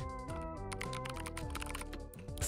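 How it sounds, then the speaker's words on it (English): Typing on a computer keyboard during a Balatro game stream, a steady run of quick key taps set against music playing loudly in the background. "here, you guys hear me type"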